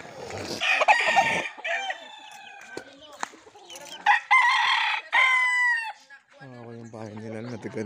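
A rooster crows loudly nearby after Typhoon Odette in Hilongos, Leyte, with clucking fowl and other chicken calls around it.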